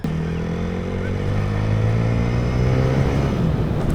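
A TVS Apache RTR 4V motorcycle engine on its first ride, running steadily close by and rising slightly in pitch as it picks up speed, with a faint voice in the background.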